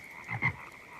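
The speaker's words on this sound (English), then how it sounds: "Can you hear all those frogs?" A brief outdoor frog chorus with a couple of louder croaks rising above the steady background calling, and no voices.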